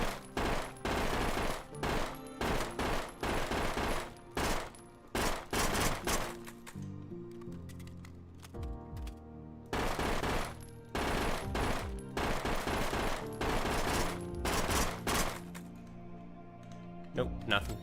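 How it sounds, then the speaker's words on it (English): Machine gun magazines emptied in the video game Intravenous 2, with long loud bursts of rapid automatic fire separated by short pauses and quieter clicking and reload handling. "let's just fire off a couple of mags"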